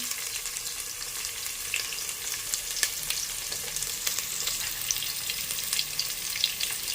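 Small shallots and green chillies fry in hot oil in a pan for a Tamil drumstick kulambu. A steady close sizzle and crackle runs throughout, with light stirring and no talking.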